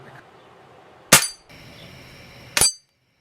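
A vintage Crosman 760 air rifle fired twice at a metal target, each shot a sharp loud clang followed by a short ringing tail, about one and a half seconds apart, with no talk.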